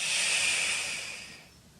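A single deep exhale during a beginner Pilates flexion exercise, a close, breathy hiss of air that starts strong and gradually fades over about two seconds, with no talking.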